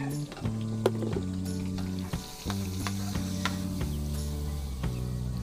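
Cooking oil and a little margarine sizzle hard in a pan for beef kaldereta, a loud, continuous frying crackle with occasional scraping and stirring clinks.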